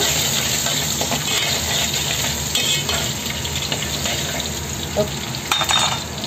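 Garlic sautéing in a pan gives a close, constant crackling sizzle with a steamy hiss, punctuated by a handful of scraping stirs near the end and no speech.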